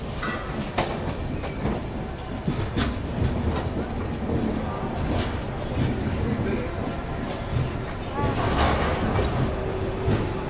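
Tirupati-Adilabad passenger train passing close by on the tracks, with a steady loud rumble, rattling wagons and repeated sharp clacks of wheels over rail joints throughout, no speech.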